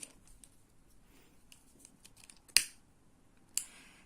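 Scissors snip through yarn at close range during a crochet bag project, with two sharp, distinct cuts standing out over faint handling clicks and rustles.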